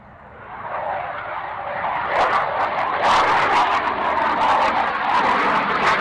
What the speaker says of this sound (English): Sort of slightly slower pass this time, quieter on the ears, dropping the undercarriage.